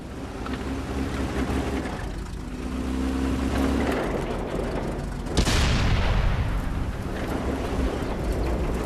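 A Panzer III medium tank's cannon fires once in World of Tanks, a sharp, loud boom midway that decays into a rumbling tail over steady engine and battle noise, with no speech.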